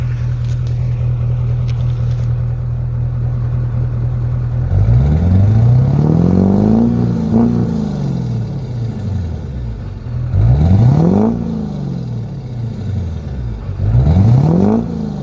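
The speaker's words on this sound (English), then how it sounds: "I'll go ahead and give you a little bit of exhaust clip here." A 2001-2010 Duramax diesel pickup fitted with a PPE Xcelerator tuner: the exhaust drones at idle, then rises through three strong revs, each climbing and falling back, close and loud.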